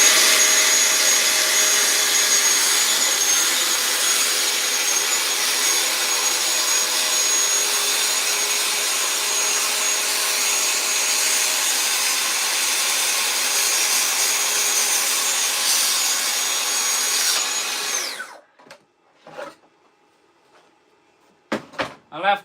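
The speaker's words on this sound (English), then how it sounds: "So I'm just going to go freehand now just to finish the cut off." A Festool plunge saw rips freehand through oak without dust extraction, a loud steady whining cut lasting about eighteen seconds before stopping abruptly, followed by a few faint knocks and handling clatters.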